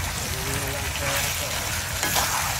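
Tomatoes cook in a pan with a steady, close, crackling sizzle that runs unbroken throughout, with no talk over it.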